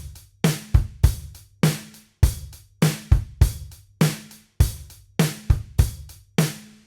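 A drum kit plays a steady rock groove: the basic money beat of kick, snare and hi-hat with an added extra kick note, repeating in tight, punchy cycles with no talking.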